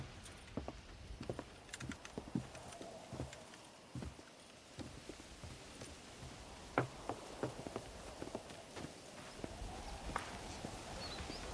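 In the Red Dead Redemption video game, horse hooves clip-clop at a ranch while horses are broken in. The hoofbeats are steady and rhythmic, at a moderate distance, with no talk over them.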